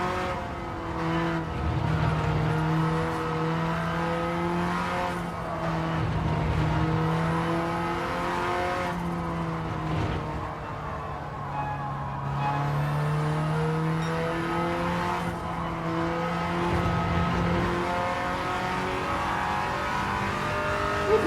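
A race car on sport soft tires in Gran Turismo 7 holds a steady, loud engine drone, with its pitch rising and falling through gear changes and corners across the lap, alone with no talking.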